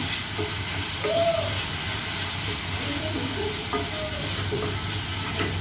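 Tomatoes fry in a pan for chaat, giving a constant, fairly loud sizzling hiss with faint stirring clinks scattered throughout.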